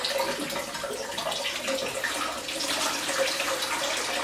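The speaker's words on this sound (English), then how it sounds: "This is basically done by siphoning some water from the tank into the sealed discus bags" Water siphoned from an aquarium tank into sealed bags holding discus fish flows and trickles continuously with a soft, steady gurgle, close by and moderately loud, with no voices.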